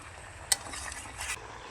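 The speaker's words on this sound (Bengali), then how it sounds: "এবং মাংসর সঙ্গে ভালো করে মিশিয়ে নেব।" Kashmiri red chilli powder and black pepper are stirred into goat meat in a pan, with a quiet scrape and a single sharp tap, then a soft sizzle and shuffling of the spoon.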